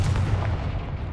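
A short, deep blast from the Confringo fire spell in Hogwarts Legacy, a heavy booming thump that quickly fades into rumble.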